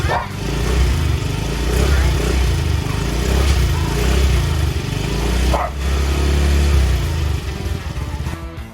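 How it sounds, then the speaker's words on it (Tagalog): A Yamaha Mio Gear 125 scooter runs on its stock exhaust pipe with a loud, steady, low engine drone close by that holds for the whole stretch. "bago nating palitan, pakinggan muna natin ang tunog ng stock pipe"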